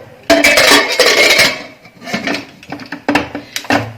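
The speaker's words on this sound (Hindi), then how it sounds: "अब कुकर का ढक्कन बंद कर देंगे" A metal pressure cooker lid is handled and closed over a pot of dal makhani, giving a burst of clanking metal followed by several sharper clinks and knocks.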